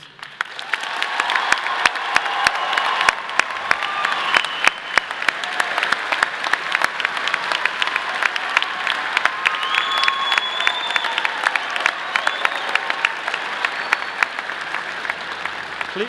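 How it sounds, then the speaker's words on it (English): A commencement audience applauds first-generation graduates with sustained, even clapping from a large crowd, faint cheers rising now and then over the steady wash of hands. "please stand so we may applaud your success."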